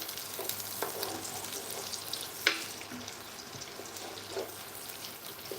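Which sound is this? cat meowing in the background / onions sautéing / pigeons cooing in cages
onions sautéing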